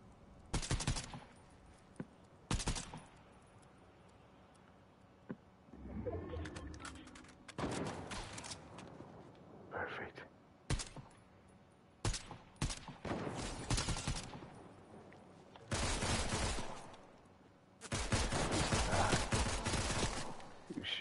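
Bursts of rapid automatic gunfire from Fortnite, several volleys of varying length separated by pauses, loud and close, with short single shots and some brief talk between them.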